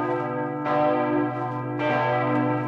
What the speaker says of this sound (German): Nachdem er so die Eigenschwingung des Turmes festgestellt hat, kommen die Glocken ins Spiel.